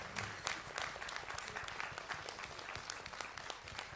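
Enthusiastic applause from an audience at a benefit concert honouring a singer, with dense steady clapping filling the hall for several seconds and no speech over it.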